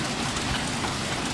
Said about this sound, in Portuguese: Está chovendo muito granizo aqui, ó.